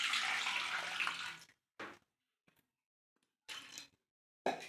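Water from soaked sago pours off in a steady trickle for over a second, then short splashes and drips follow in bursts separated by silence, close and fairly quiet.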